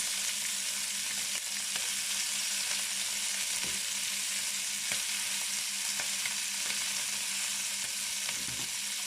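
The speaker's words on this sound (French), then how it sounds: "Je fais bien dorer ma viande" Pork pieces fry in a pan with a little butter, a steady, close, dense sizzle that hisses without pause, with faint scrapes and taps of a utensil now and then.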